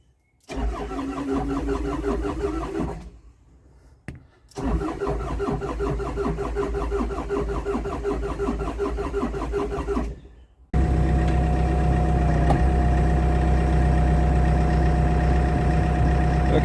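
An old Caterpillar diesel engine cranks in several long bursts with short pauses, then fires and settles into a steady, loud, close idle for the last several seconds.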